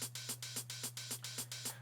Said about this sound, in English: which will mimic the kind of rhythm that you get from tapping a tambourine or a shaker